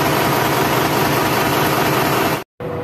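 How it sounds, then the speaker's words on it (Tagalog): Overhauled Isuzu 10PD1 diesel engine running steadily at idle, a close, loud, continuous low rumble with even vibration that cuts out briefly near the end before resuming, with no talking. "Yan natin yung overhaul na makina."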